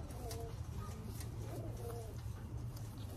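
A Blue Bar racing pigeon being handled for a one-loft race, giving soft, low cooing under faint background noise, with a person speaking nearby.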